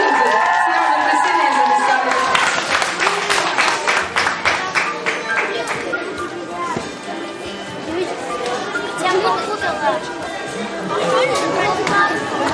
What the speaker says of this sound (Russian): Аплодисменты им.